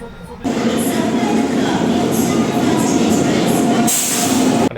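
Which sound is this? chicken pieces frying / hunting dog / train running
train running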